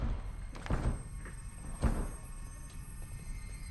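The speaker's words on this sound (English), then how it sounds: "you broke the door" A door is knocked and struck hard enough to break it, giving two dull, heavy thuds about a second apart indoors, with faint background noise.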